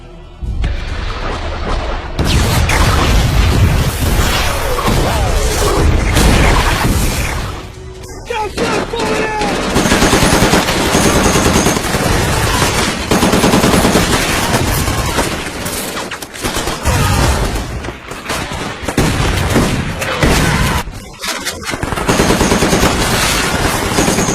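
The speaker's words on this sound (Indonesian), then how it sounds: "tiba-tiba di luar sana baku tembak terjadi" Sustained heavy gunfire in a World War II film, with rapid machine-gun bursts and booming blasts, loud and dense, with a brief lull before the shooting resumes.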